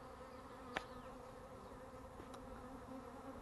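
A swarm of honey bees hums near a pine tree and hive box outdoors, a faint, steady, continuous buzz with one brief tick.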